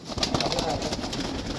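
Pigeons in a breeder's loft, a golden pair among them, give soft repeated coos amid a busy, echoey enclosure with faint rustling.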